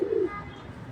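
Pigeons cooing indoors, one short low coo close by that fades into a soft, murmuring room background.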